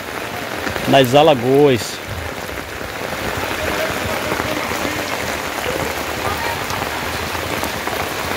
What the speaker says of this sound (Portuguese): E é muita chuva, viu? Chuva forte aqui